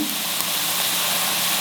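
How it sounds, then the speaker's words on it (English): Tomatoes fry in hot oil with a dense, continuous close sizzle over a short stretch, no voices present. "Let the tomatoes get fried and become soft."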